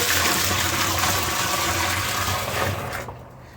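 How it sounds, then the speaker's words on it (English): Water gushes steadily into a moonshine mash pot, a loud close rushing pour that continues evenly before tapering off near the end. "We're going to add our water."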